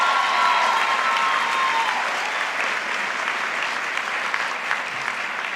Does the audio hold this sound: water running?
no